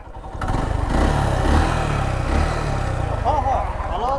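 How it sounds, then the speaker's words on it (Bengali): A motorcycle engine revs hard and runs at high speed, a loud, close, continuous roar that swells and holds, with a voice speaking over it and chirping sounds near the end. "ইঞ্জিন তো ফ্রি হয়ে গেছে ভাই"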